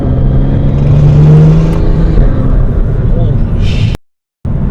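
A 600 wheel-horsepower BMW M240i accelerating under partial throttle, its engine note and turbo spooling up in a steady, loud rise, with people talking over it before a brief cutout near the end.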